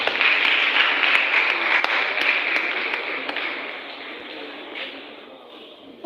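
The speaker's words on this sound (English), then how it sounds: "A round of applause for them again." Applause at a youth development workshop, a loud, close burst of many hands clapping with a few sharp individual claps, gradually tapering off.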